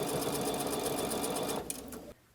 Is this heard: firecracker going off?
no